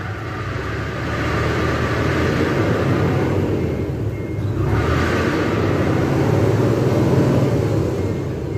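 A loud Mitsubishi Fuso 6M70 truck engine idles and revs steadily up close, its rumble carrying a persistent rough, squealing whine from a loose, slipping belt.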